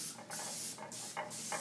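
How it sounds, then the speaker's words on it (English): Cooking spray goes onto a 13 by 9 casserole dish in several short hissing bursts, close and fairly quiet, with brief pauses between sprays and no talk. "So spray your 13 by 9 casserole"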